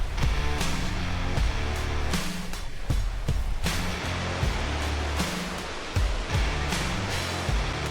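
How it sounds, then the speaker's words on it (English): A roaring waterfall along an ultra-trail route in Wallis, Switzerland gives a steady, loud broadband rush of falling water, with footsteps and gear knocks heard close over it. "We passed roaring waterfalls"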